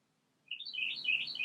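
A bird chirps in quick, high bursts in the background, starting about a third of the way in and continuing steadily, fairly close but moderate in level over a quiet room.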